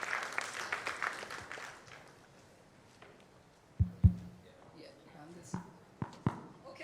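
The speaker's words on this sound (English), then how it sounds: "with a huge round of applause" Clapping from an audience at an e-commerce conclave opens a panel discussion, dense at first and then thinning out over a couple of seconds, followed by scattered knocks and footstep-like thuds as people settle.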